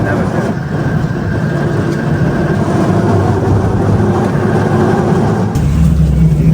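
Auto rickshaw ride on a dusty, windy road, with a loud steady motor drone and road rumble close around the passengers, and speech mixed in over the noise.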